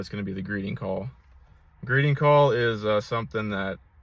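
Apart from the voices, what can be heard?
No distinct noise like a dog, phone or traffic.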